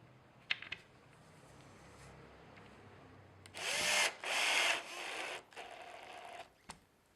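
A power drill whirs in several short bursts after a few faint clicks, drilling pilot holes into the back of a sign panel, fairly close, with brief pauses between runs and a final tap.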